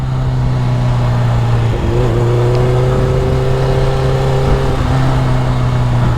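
Engine of a Honda CBR 1100XX motorcycle while riding, a loud steady drone that rises slightly in pitch midway as the throttle opens and then settles, with no talking.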